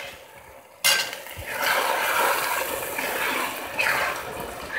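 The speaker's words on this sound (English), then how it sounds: "Give it a stir." Mushroom risotto gets stirred in a pot after pizza seasoning is added, a soft continuous scraping and wet churning that starts abruptly and carries on steadily, with a louder swell near the end.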